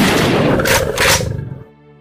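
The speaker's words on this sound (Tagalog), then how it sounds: "Wasak ang bungo ng isa sa mga aswang matapos itong paputukan ni Mang Carlito ng gamit niyang shotgun" A single loud shotgun blast with a rolling boom and quick decaying rumble, fired as a sound effect in a Filipino horror audio drama about aswang, set over a music bed that continues after the shot fades.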